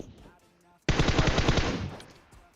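A rapid burst of automatic gunfire in PUBG Mobile, around eight quick shots fired in a tight stream lasting about a second, loud and close after a quiet moment.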